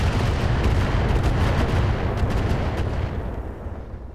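Sustained booming artillery barrage in the mech combat game Roguetech, a dense, loud rumble of repeated blasts that rolls on continuously and tapers slightly toward the end, with no voices.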